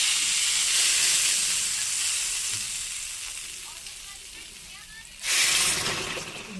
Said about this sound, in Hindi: तो हमने सबसे पहले चमचे में तेल डाला है, थोड़ी सी लाल मिर्च है और साबुत धनिया रखी हुई थी, तो उसी का तड़का लगा देंगे।